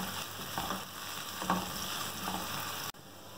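Chopped medium-sized onions sizzle steadily in a pan as they fry toward golden, with a continuous crackling hiss, a few soft stirring scrapes, and the sound cutting off abruptly near the end.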